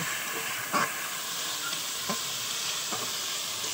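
Mustard and poppy seed paste with green chilli, thinned with a little water, frying in a pan for a Bengali bata fish curry; a steady soft hiss with a few faint stirring scrapes, no talking.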